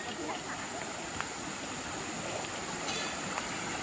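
A river flowing right beside a tent at a campsite in Malaysia, a steady broad rushing wash of water that fills the scene, close and continuous with no voices.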